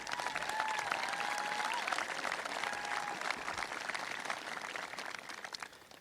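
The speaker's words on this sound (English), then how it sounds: "I give them a round of applause." Audience applause at a high school graduation ceremony in Paradise, a broad wash of clapping from a crowd, loud at first and slowly thinning, with a faint voice or tone briefly audible early on.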